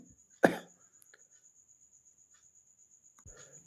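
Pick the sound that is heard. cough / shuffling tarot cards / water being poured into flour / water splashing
cough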